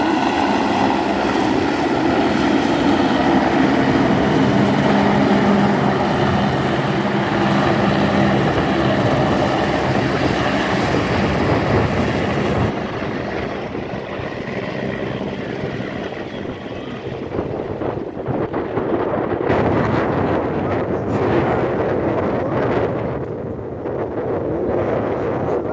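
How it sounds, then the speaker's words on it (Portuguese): Helicopter lifting off for a medical evacuation, a loud continuous rotor and engine roar with wind buffeting close by, shifting in tone partway through as it climbs away. "Decolando agora o helicóptero."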